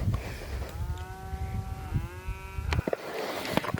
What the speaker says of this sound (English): they've been over there mooing up a storm